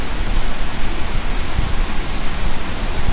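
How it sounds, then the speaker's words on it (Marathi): Savdav waterfall in full monsoon flood, a loud continuous roar of crashing water that fills every moment without pause, close and overwhelming, with no speech. "आज धबधब्याचं रौद्र रूप आहे"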